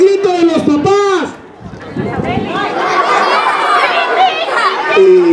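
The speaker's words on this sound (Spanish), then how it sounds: "¡El grito de los papás!" Fathers in an outdoor neighborhood movie-night audience let out a loud collective shout, a dense roar of many voices following a short spoken call, with a voice speaking again at the end.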